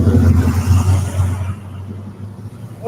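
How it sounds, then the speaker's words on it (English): Rumbling exhaust of a car passing by at a classic car cruise, a loud low drone that fades somewhat after a second or so. "Yeah, lots of loud exhaust."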